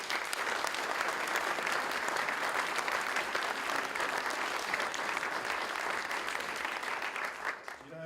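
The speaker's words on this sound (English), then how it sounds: "an amazing round of applause" Festival audience applause, a sustained, full crowd clapping heard close and loud for several seconds before fading at the very end.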